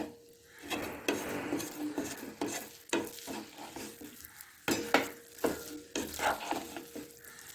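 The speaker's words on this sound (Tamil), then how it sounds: "கேஸில் வச்சு நல்லா ஒரு கிண்டு கிண்டணும்" A sweet kamarkattu mixture is stirred in a pan over a gas flame, with repeated scraping strokes of a spoon against the pan in an uneven rhythm over a low sizzle, close by and without any voices.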